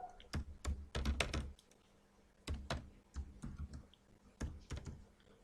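Keys clatter on a computer keyboard as a print statement is typed in Java code, quiet close clicks in quick clusters with brief pauses between bursts, no voices.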